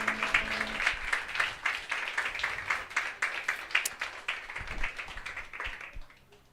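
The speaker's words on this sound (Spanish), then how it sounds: "Vamos a dar un fuerte aplauso más a nuestro Dios" A church congregation applauds during a Holy Week service, with quick, dense clapping that gradually fades out toward the end.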